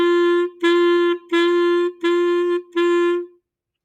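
Five sustained clarinet notes on open G, each begun with a crisp tongued attack, played solo and close with short gaps between them and the last note held slightly longer.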